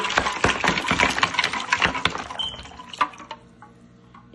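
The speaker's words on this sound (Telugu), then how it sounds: "ఇలా పెట్టాక నేను చల్లటి నీళ్ళు వేస్తున్నాను." Cold water rushes loudly into a bowl of avocados, a close, splashy, gurgling pour that gradually thins into scattered drips and trickles.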